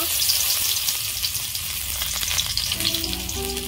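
Chopped garlic frying in hot oil in a pan, a steady bright crackling sizzle holding close and loud throughout, with no talk over it.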